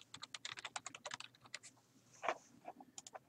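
Rapid typing on a computer keyboard, a quick run of light plastic key clicks at close range, then a brief pause and a few final taps, with no voice.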